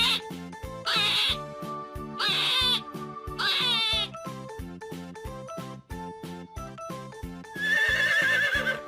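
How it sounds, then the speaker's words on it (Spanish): Several horse neighs ring out in bursts of shrill, wavering whinnies, set against a repeated rhythmic musical backing that runs throughout. "Caballo."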